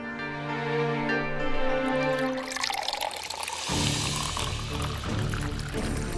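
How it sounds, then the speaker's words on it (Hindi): Water is poured into a glass, the filling sound rising in pitch as it runs, close and clear over a background of musical tones. "मैं आपके लिए पानी लेकर आती हूँ।"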